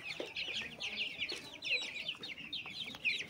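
Twenty-day-old Tiger breed chicks cluck and peep in quick, overlapping bursts, a busy cluster heard close up with no talking.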